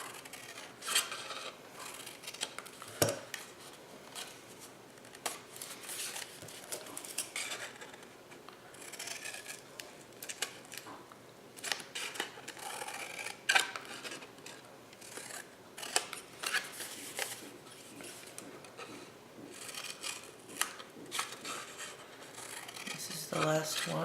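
Scissors snip the corners of paper sheets for a lidded box in soft, irregular cuts and rustles, mixed with a person talking.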